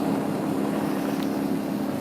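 Motorcycle engine accelerating gently, a steady low droning hum with a rushing wind-like wash, moderately loud and even across the moment with no talk.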